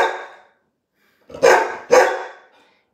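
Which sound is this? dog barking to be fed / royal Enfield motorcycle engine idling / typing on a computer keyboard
dog barking to be fed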